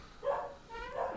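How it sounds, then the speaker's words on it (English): A pet dog gives two short, moderately loud barks in quick succession, close by, with no one talking over them. "sorry about my dog"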